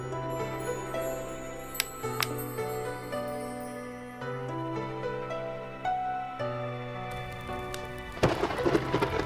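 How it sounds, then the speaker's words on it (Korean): Thunder and rain effects from the wuxia game Hwalhyeopjeon: a sudden rumbling crash with a hiss of rainfall breaks in near the end, over steady tonal game music that plays throughout. "뭐야 번개?"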